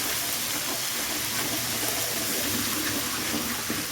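Ginger garlic paste sizzling in hot oil for a chicken bone kulambu, a steady dense frying hiss and crackle filling the whole stretch, close and continuous with no talking.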